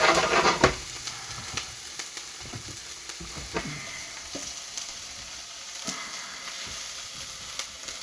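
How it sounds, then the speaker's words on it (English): Chopped onions sauté and sizzle steadily in a frying pan for a perogy filling, with a loud stir or scrape near the start and occasional lighter stirring clinks over the constant hiss. "You don't really want your onions to burn. You want them to just be nice and sauteed."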